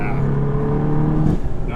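A VW GTI MK7.5 with a manual gearbox, Integrated Engineering 3-inch catted downpipe and AWE Touring catback exhaust, droning steadily at a low idle-like pitch, close by, with voices talking over it.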